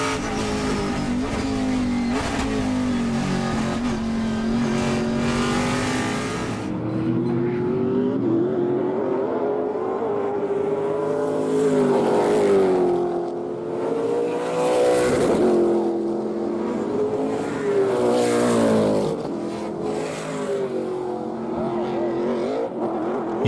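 Trans Am race cars racing at Thunderhill, heard on board with a loud, sustained engine howl rising and falling through gear changes. Commentary voices run over the engine noise.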